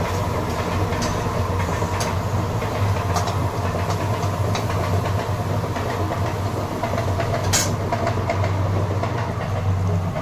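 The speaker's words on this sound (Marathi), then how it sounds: "रेल्वे चाललेली आहे." A train rumbles by steadily with a low continuous drone and faint rattling of cars, fairly close, with no voices.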